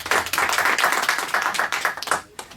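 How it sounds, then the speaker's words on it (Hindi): A studio audience on a junior quiz game show claps for a winning contestant, a loud dense burst of applause that holds steady and then tapers off near the end, with no talking over it. "तो एक बार जोरदार ताली हो जाए निष्ठा भारद्वाज के लिए"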